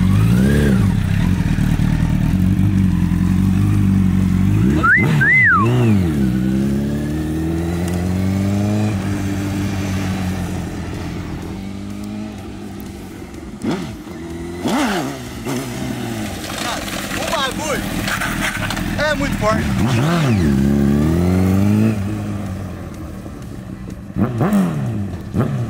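A Honda CBR1000 Repsol sport motorcycle engine is revved hard several times, loud and close, with the pitch rising and falling between blips and a steady idle in the gaps; someone talks at points.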